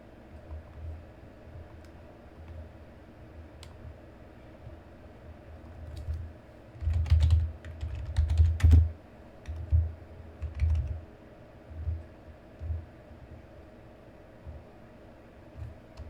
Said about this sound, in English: let me see if I can type this down correctly